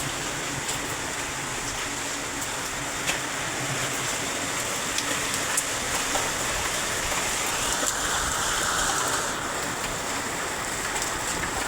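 Heavy rain pours in Chennai as a dense, constant roar of water with no break, loud and enveloping, with scattered drops striking surfaces close by.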